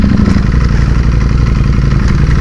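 A Ducati motorcycle engine idles close by, a loud, rough, lumpy rumble with rapid uneven firing pulses and no talking.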